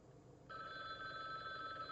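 A telephone bell starts ringing about halfway through, a steady bright electronic tone that continues to the end over a quiet room.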